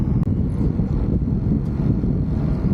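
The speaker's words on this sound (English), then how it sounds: "All right, guys, super windy" Strong gusty wind batters the microphone on a fishing pier at the Skyway, a loud, low rumbling buffet with uneven surges and brief dips, constant throughout and with no talk.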